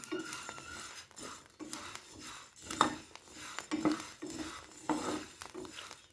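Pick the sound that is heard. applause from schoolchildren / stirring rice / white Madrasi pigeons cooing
stirring rice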